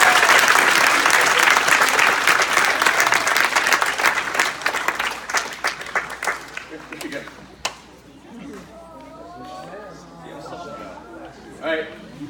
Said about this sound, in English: So please just give a round of applause for Mrs.